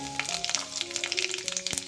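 A spoonful of panch phoron spices hits hot oil left from frying fish, giving a light crackling sizzle with scattered sharp pops under soft background music.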